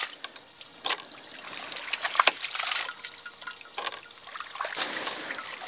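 A hydraulic ram pump starts cycling unevenly with water trickling and splashing, quiet and close, with several sharper irregular clanks and spurts over a faint running-water background.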